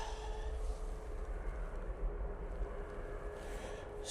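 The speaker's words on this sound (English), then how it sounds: "Ryanair coming in from fake Brussels using the 737 MAX 8" A Ryanair Boeing 737 MAX 8 arriving from Brussels produces a faint, distant engine rumble that holds low and steady throughout.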